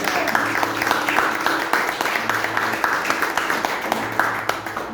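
A congregation at a Saturday church meeting claps together in sustained applause, a dense, fairly loud patter of hands with voices calling out over it.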